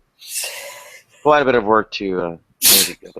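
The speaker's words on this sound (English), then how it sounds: "Gesundheit." A single sharp sneeze bursts out near the end, following someone speaking in a conversational podcast setting; talk surrounds it on both sides.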